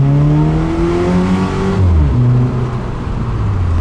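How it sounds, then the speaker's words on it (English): A car fitted with an aftermarket intake pulls along the road, its engine note rising through the revs, dropping at a gear shift and climbing again, loud and close throughout. "I thought going for a spin would be better than just revving it in the carport."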